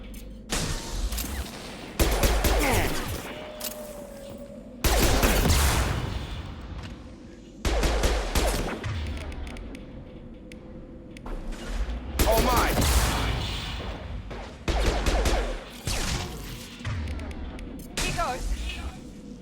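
Bursts of weapon fire in Mass Effect 2 crack out in repeated volleys, loud and close, with sharp blasts separated by short pauses and a mechanical hum running underneath.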